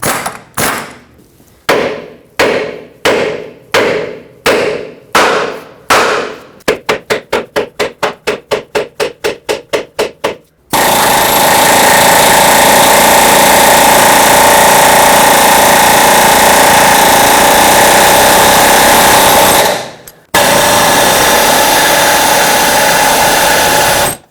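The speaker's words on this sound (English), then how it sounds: "try to hammer on it and see if I can pop it out" Metal hammer blows strike a bolt in the front lower control arm of a 2003-2009 Toyota 4Runner, first spaced, then speeding into a rapid flurry, followed by a long loud grinding roar of a power tool.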